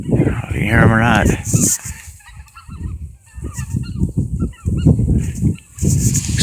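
Greater white-fronted geese passing overhead above an Illinois wetland on a cold, icy morning, a burst of honking calls at the start and fainter ones later, mixed with someone speaking nearby.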